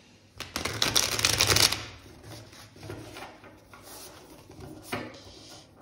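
Tarot cards being shuffled, a loud dense riffling burst for about a second and a half, followed by softer sliding and handling of the deck and a sharp tap near the end.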